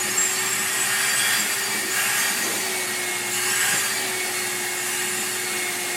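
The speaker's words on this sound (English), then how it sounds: "Everybody has a cat who will let us vacuum them." Close and constant, a vacuum cleaner hums and hisses while being run over a cat, the airy rush shifting slightly in tone as the nozzle moves, with no voices.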